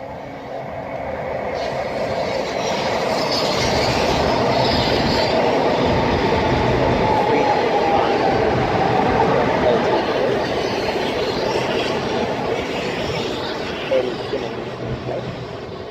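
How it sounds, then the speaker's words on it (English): A Southeastern high-speed train from London St Pancras pulls into Sittingbourne station on the Chatham Main Line, a loud steady rumble of wheels on rails with some squealing, building and holding close by. "now arriving in is 1 Foxtrot 36, the 1451 Southeastern high-speed service from London St Pancras to Faversham"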